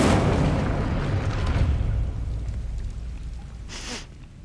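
Incendio fire spell cast in Hogwarts Legacy: a loud whooshing burst of flame that booms at the start, roars on, then fades, with a sharp crackling flare near the end.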